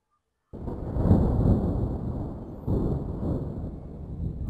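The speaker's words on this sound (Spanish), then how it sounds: "Es una tormenta y quizás es el que necesitas" Deep thunder rumbles in two rolling swells, the second starting partway through, with a low, heavy roar that lingers between them.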